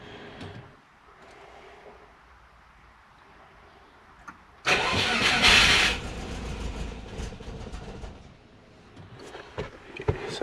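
A car engine cranks after an ECU update, a quiet low hum giving way to a sudden loud churning crank and catch that settles into a rough, uneven run, close by.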